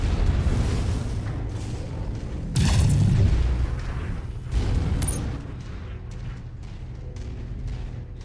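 Missiles blast in a mech combat game, MechWarrior, as deep, heavy booms, one big impact near the middle and another shortly after, over a constant low rumble of machinery.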